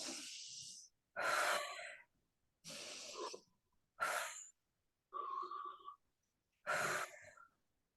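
Six slow, breathy airflow sounds in steady alternation, each about a second long and separated by silence, from a children's breathing exercise of slow inhales and soft exhales, with one breath carrying a voiced, sighing tone.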